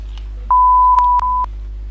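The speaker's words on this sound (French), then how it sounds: "arrête de biper!" A steady electronic censor beep sounds for about one second as a single flat tone, broken by brief clicks, over a quiet low hum with no talk audible.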